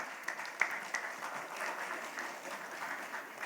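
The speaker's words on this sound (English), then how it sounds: "let's give a humongous round of applause to Sheela and Neha Dhupia" Faint, steady audience applause from a crowd at a fireside chat event, a continuous wash of clapping with a few sharper claps near the start.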